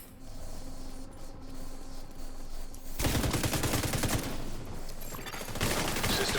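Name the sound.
sniper rifle shots in a video game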